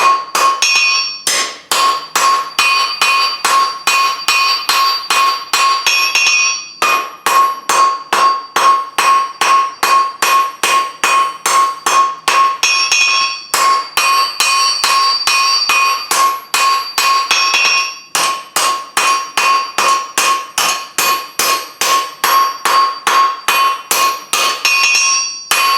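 Hammer forging a long taper on a wreath hook, loud close ringing blows in a fast steady rhythm, grouped into runs with brief pauses, no voices.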